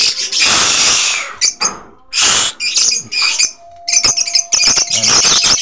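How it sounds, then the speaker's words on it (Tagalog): Pigeons in a breeding loft during breeding season, a loud, close chorus of birds calling and flapping in bursts with short gaps between them. "nabingi ako sa ingay ng mga ibon natin"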